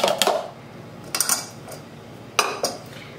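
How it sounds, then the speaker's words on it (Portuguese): Lentil salad ingredients tipped into a bowl for mixing, with a few sharp clinks and knocks of utensils against the bowl in short bursts, fairly close, with quiet pauses between. "Aí vamos colocar tudo num pote pra misturar."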